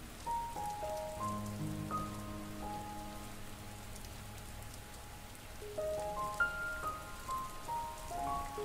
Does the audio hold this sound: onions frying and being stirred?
no